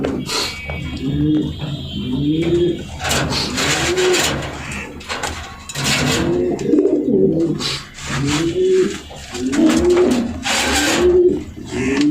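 Racer pigeons coo in a loft, the repeated rolling calls overlapping in a steady rhythm close by, with occasional wing flutters and light knocks in the background.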